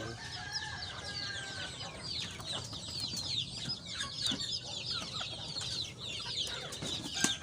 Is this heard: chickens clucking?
yes